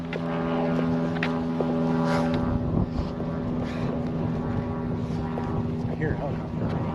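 A helicopter or small aircraft drones somewhere overhead on the final day of a walking trip, a steady low engine hum under street noise and a voice talking.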